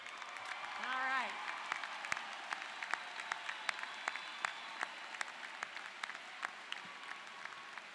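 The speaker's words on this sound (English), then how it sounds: "Will all of our honored students please rise to receive our applause?" Audience applause at a college commencement ceremony honoring students, sparse and scattered claps in a large hall, fairly faint and distant, with a voice rising briefly at the start.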